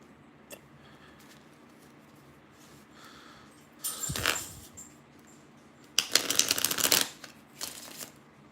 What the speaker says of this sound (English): I'm going to pull a couple cards for LT Gray.